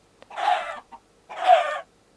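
Two bursts of chicken clucking from a Minecraft chicken farm, each about half a second long with a short gap between them, fairly close and clear with no talking.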